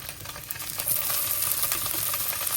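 Halloumi slices sizzle in an oiled non-stick pan over a low flame, a steady close hiss with small crackles and a faint scrape, no talking.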